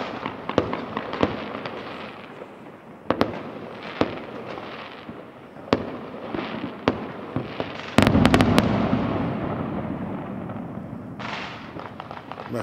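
New Year's Eve fireworks over a church district of Lamezia Terme, Italy, heard from a distance as scattered sharp bangs and crackles, with a denser rumbling burst midway and a few more pops after.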